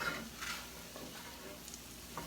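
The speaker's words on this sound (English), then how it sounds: "Give that a little stir." A thickening sauce is stirred in a pan over lowered heat, a faint soft bubbling with a few light scrapes of the spoon, quiet and alone.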